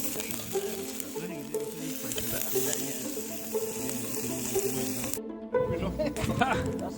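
Burgers and sausages sizzle on an outdoor camp grill during motorbike camping on Dartmoor, a steady frying hiss running throughout with people talking over it and a louder clatter near the end.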